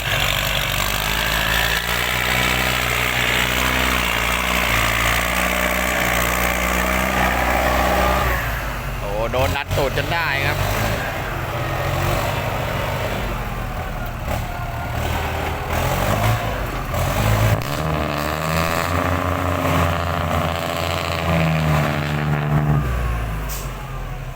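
A heavy tractor engine rumbles and idles close by, revving at times, with people talking over it throughout.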